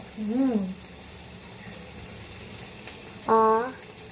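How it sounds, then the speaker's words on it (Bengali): Onions frying in a pan give off a steady, moderate hiss and sizzle, with a voice briefly speaking at the start and again near the end. "পেঁয়াজ ভাজা হবে।"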